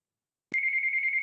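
A mobile phone ringtone sounds during a council meeting: after half a second of quiet, a steady, pulsing electronic tone starts and keeps ringing at even volume, with no talk over it.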